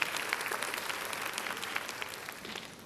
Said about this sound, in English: Round of applause for my panel members